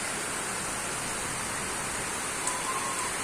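Heavy rain pours down in a dense, steady hiss of drops on surfaces, constant and loud, with no one speaking.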